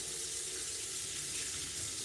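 Hot water running steadily into an Instant Pot over dry pinto beans, a continuous close rushing pour with no talk.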